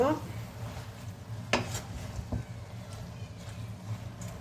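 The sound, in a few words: stirring ingredients together in a pan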